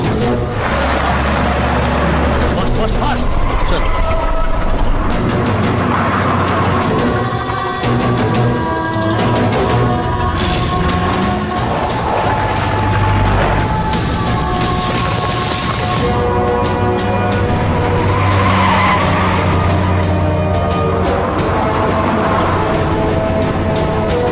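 A lorry drives fast through a forest in a film, its engine drone and rumbling road noise continuous and loud across the whole stretch, mixed with shifting tonal sounds.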